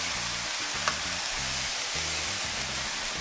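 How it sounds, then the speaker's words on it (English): Food frying in a pan gives a steady, loud sizzle, with rhythmic scraping from repeated stirring beneath it and an occasional light clink of a utensil. "So let's go ahead and stir this in and mix it around."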